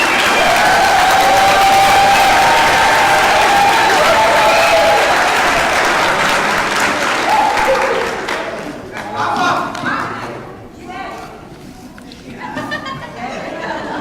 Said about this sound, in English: Please give a round of applause for the certificate graduates